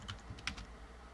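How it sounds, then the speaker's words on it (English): Keys clatter on a computer keyboard in a brief burst of quick strokes, close and clear over a low room hum. "My typing is just horrible today."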